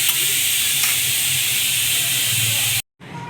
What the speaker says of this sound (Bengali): আলুগুলোকেও একটু রান্না করে নেব, হাফ সিদ্ধ করা আছে।